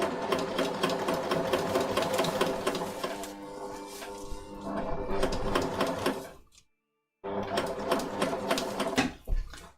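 A domestic sewing machine runs in fast, even bursts while stitching a curved seam on a pin-tuck shirt. It stops briefly, then restarts close up. No one speaks.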